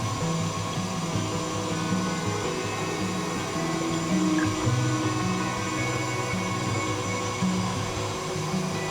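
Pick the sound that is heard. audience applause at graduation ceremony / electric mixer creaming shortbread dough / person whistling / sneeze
electric mixer creaming shortbread dough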